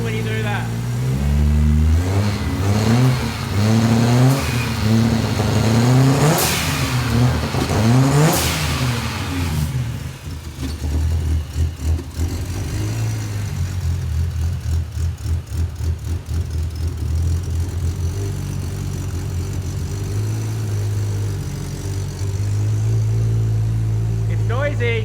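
A car engine with a fabricated intercooler and blow-off valve revs repeatedly in close, loud rising and falling bursts, then settles into a steady rumbling idle while people talk nearby.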